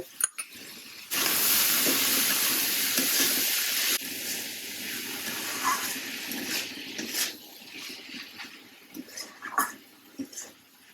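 Prawns frying in a pan with cucumber peel and kalonji seeds: a loud, dense sizzle bursts up after a moment and holds for a few seconds, then settles into quieter crackling broken by scattered utensil clinks.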